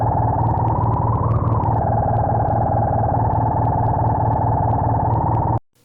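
A synthesized robot sound effect for an animated short, a steady buzzing, distorted drone whose pitch rises and falls with a pitch-shifting effect, loud and continuous before cutting off abruptly.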